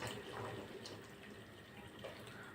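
Water splashes and pours steadily into a pot of cooking gut curry, a continuous wet rushing with faint gurgling, close and moderately loud.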